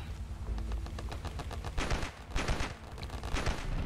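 Rapid automatic gunfire in Ravenfield, a desert battle with bursts of shots and heavier volleys, loud and close with a few short pauses.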